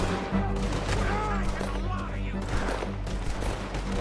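Gunfire in Red Dead Redemption 2 during the Chapter 4 finale, with rapid overlapping shots over a constant low rumble, mixed with voices.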